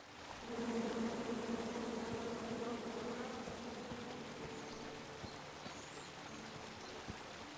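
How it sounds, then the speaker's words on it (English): A steady drone of buzzing bees fills a King's Quest game scene, a sustained swarm hum holding at moderate level for several seconds with no voices over it. "Come at me, bees!"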